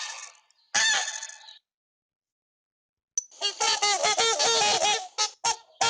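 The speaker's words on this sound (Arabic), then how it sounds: "بطة." A duck quacks loudly and close, first in two short calls, then after a pause in a rapid run of harsh, repeated quacks.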